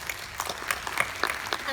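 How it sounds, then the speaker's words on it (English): Applause from a science-journalism conference audience after a panel talk, fairly quiet and brief, with scattered claps rising and fading against a low room murmur. "a round of applause for Thomas"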